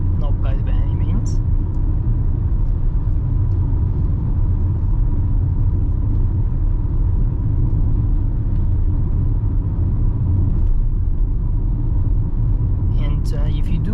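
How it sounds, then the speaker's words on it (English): Steady low engine drone and road rumble inside a 2022-2023 MG ZST with a small 1.5-litre engine while driving, a constant hum working under the cabin with a few brief clicks at the start and end. "There's obviously a little bit engine noise. Obviously, this is a small engine, so it does have to work on it."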